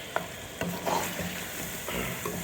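Chicken karahi sizzles in ghee in a pan while a spoon stirs it, soft frying crackle with a few scraping strokes, close but fairly quiet.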